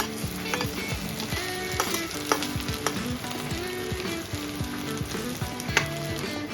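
Boiled potatoes frying in oil in a kadai make a loud, steady crackling sizzle close by, with frequent scraping and stirring knocks from a spatula.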